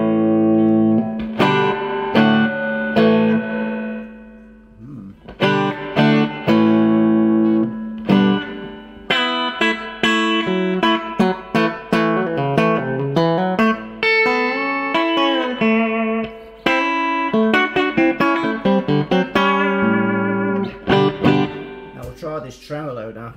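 Electric guitar played through a Peavey Classic 2x12 combo amp with lush reverb, chords and single notes ringing out and decaying into a washy tail, loud and close.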